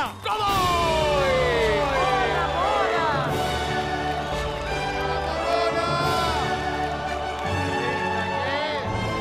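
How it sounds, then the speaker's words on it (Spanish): A studio audience cheers, whoops and applauds loudly for a tango dance couple on a television show. The cheering is continuous, with shouting voices over the top. "Señoras y señores, fuerte el aplauso para presentar al señor Marcos Ayala y a la señora Mora."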